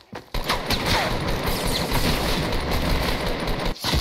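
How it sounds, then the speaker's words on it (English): Video-game shotgun fire in a rapid, loud, continuous barrage of close blasts, cut off by a short gap near the end. "They have shotguns."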